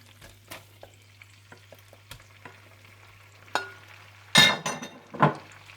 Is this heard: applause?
no